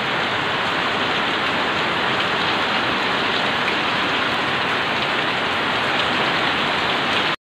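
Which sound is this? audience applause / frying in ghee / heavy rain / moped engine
heavy rain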